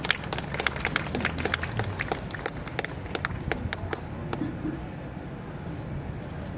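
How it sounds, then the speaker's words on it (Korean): An audience at a church-related assembly applauds to welcome a pastor to the podium, a dense burst of many hands clapping that gradually thins out and fades over several seconds. "여러분 박수로 맞아주십시오."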